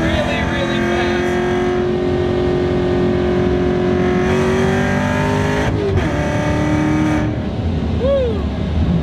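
A supercharged 550 HP Chevrolet C7 Corvette engine drones loudly with strong harmonic tone, revving up and shifting pitch as it accelerates, close and continuous, with a voice speaking over it.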